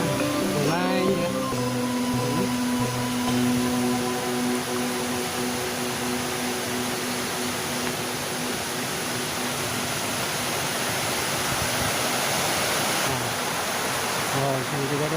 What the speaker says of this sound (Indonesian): Ada airnya, sungai ya.